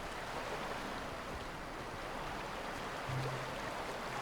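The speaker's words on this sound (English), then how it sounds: "You got a sick waterfall, just for the looks, and a river for water." Steady broadband rush of a waterfall and flowing river in the video game The Outer Worlds, continuous and fairly faint with no distinct events and no speech.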